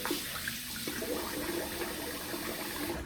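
A tap runs steadily into a sink while a face is wetted for shaving, with close splashing water flowing for a few seconds and no talk.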